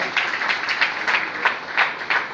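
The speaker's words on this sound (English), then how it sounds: "clap your hands together" A worship congregation claps hands together, a steady wash of clapping with a few louder pulses, moderately loud and without speech.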